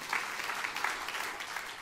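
A church congregation at a sermon gives a warm round of applause, a soft, dense wash of clapping heard alone and fairly distant, lasting about two seconds.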